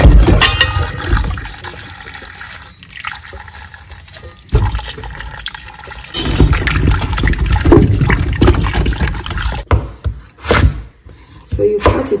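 Cocoyam is washed in water, with splashing, sloshing and running liquid filling the space in uneven surges, loud and close, with brief pauses between bursts.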